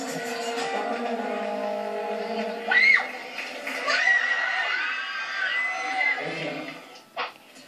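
Fans scream and cheer at SM Mega Mall as a singer begins performing, a sustained crowd roar with shrill individual shrieks rising above it and a sudden high scream near the end.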